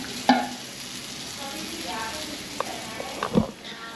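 Pieces of surmai (kingfish) coated in spice masala fry in a pan with a steady, close sizzle. A few clinks and scrapes of stirring or turning break through, and a voice speaks faintly in the background.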